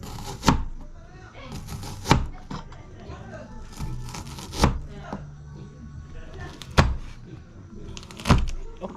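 Knife chopping vegetables for a Filipino sinabaw soup, with sharp board knocks landing every second or two over a low kitchen background.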